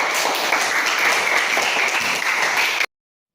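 An audience claps steadily in a dense, even burst of applause, then cuts off abruptly into silence.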